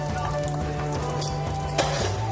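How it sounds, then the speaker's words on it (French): Steady crackling sizzle of spring rolls frying in hot oil, close by, with a faint constant hum underneath and a small clink near the end. "les nems en friture"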